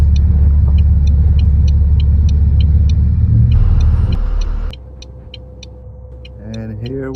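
A school bus on a summer camp route merges into traffic: a steady, close engine rumble with repeated high beeping dominates, then drops to a quieter idle hum near the end, where a voice briefly speaks.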